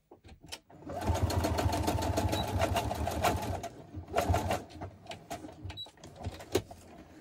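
A sewing machine stitches through paper ephemera for a craft project. A close, steady mechanical whir runs for a few seconds, then stops briefly before a shorter, uneven burst of stitching.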